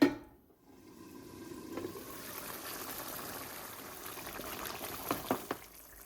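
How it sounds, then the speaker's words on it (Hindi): Tomatoes with a spoonful of salt simmer in a pot for beef karahi, giving a soft, steady bubbling and sizzle with a few louder pops near the end, heard close and without talk. "टमाटर को इतनी देर पकाएंगे टमाटर मिक्स हो जाए।"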